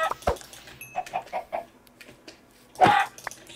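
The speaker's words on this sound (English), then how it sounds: "Awesome, a chicken." Chicken clucking in the video game Minecraft, several short soft clucks in a quick run, with a louder squawk near the end, fairly close and clear.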